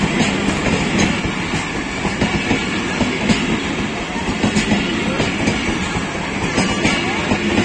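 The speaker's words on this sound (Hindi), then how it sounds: "ट्रेन तो रवाना हो गई है GU40।" The Bahauddin Zakaria Express passenger train runs on rails, a loud continuous rumble with rhythmic clickety-clack wheel beats heard up close throughout.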